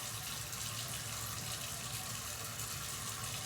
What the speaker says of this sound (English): I have to turn the water back on